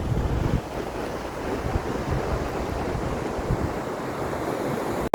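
Sea waves washing on a beach at low tide in Rabigh, Saudi Arabia, a continuous rushing wash mixed with wind buffeting the microphone, steady and moderately loud.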